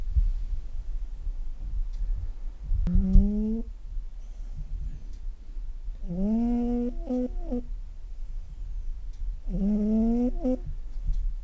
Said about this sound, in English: And she can snore very loudly.